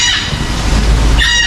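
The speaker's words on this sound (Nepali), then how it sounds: "चरा रहेछ, चरा" A captive bird, apparently a talking one, clucks like a chicken in two close bursts at the start and end, loud and nearby over a steady background rumble.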